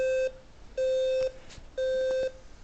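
An Arduino-based smoke and fire alarm controller sounds its alarm as three loud, clean electronic beeps, each about half a second long and separated by short gaps, close and alone.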